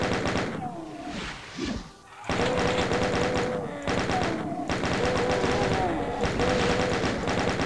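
Rapid chain gun fire in the first-person shooter DOOM, with dense, continuous bursts loud and close, broken by a short pause near two seconds before the firing resumes steadily.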